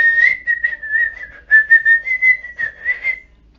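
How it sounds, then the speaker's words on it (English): A man whistles a bright, wavering tune while shoveling coal from a cart, a clear close melody of short connected notes with brief pauses, heard alone without talk. "Dipper whistled and worked quickly"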